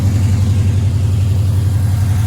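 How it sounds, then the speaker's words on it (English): A 1972 Chevrolet Chevelle's engine runs steadily at idle, a smooth, even low rumble with a regular pulsing throb, close and constant throughout with no voices. "Let's go listen to the motor"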